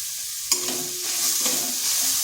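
A semolina and carrot mixture with sugar and chopped coriander being stirred in a pan, close scraping strokes over a steady sizzle, with a few distinct spoon clicks against the pan.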